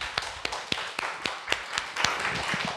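Church congregation clapping in a steady rhythm, sharp evenly spaced claps about four per second, close and fairly loud, with a light murmur of voices underneath.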